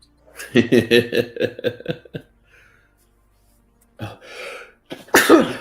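A sneeze, a burst of voiced, sputtering sound, then quiet, followed by short bursts of talk.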